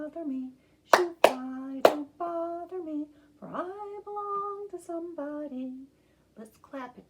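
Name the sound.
children clapping hands along to a song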